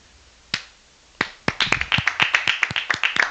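Hand claps echo in a room: two slow, isolated claps, then a quick run of sharp claps at an even rhythm, each with a short ringing tail.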